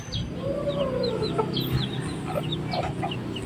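Young chicks in a coop with rice hull bedding peep in quick, high chirps scattered throughout, over a steady low background murmur of clucking fowl.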